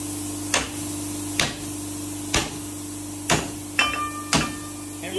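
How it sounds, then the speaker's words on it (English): Six sharp metallic strikes spaced about a second apart, each ringing briefly over a steady low hum. "take that hammer and hit it"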